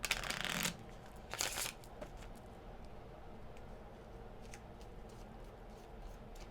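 Witches' Alphabet oracle cards are shuffled by hand, with two quick riffling bursts close up at the start, then soft, faint card slides and ticks over quiet room tone.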